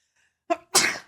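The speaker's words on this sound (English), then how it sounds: "I have to sneeze." A single close sneeze: a short sharp inhale followed by a loud explosive burst, isolated against silence.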